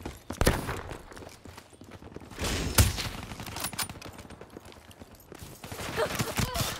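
Gunfire in the shooter game Black Ops 3, with bow and sniper weapons: scattered sharp shots and impacts at irregular intervals, one especially loud crack, mixed with busy game noise and some speech.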